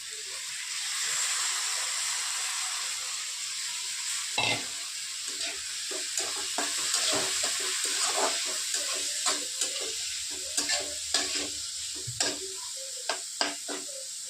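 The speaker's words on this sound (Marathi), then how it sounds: "परतून घेणार आहोत आपण थोडस लाल झालं आहे आता टाकत आहोत आपण डाळ" Chickpea greens with dal sautéing in a pan, a steady sizzle and hiss under a series of scraping stirs and light clinks of the spoon against the pan, growing busier toward the end, with no talk.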